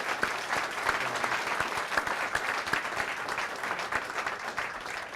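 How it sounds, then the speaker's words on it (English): Steady, loud audience applause honoring a top city bus driver at a ceremony, continuous dense clapping without a break, close and full throughout. "So I think we give a good round of applause for Robert."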